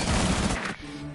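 Rapid automatic F2 assault rifle fire in Rainbow Six Siege, a short loud burst of close shots that cuts off abruptly, leaving a faint tail.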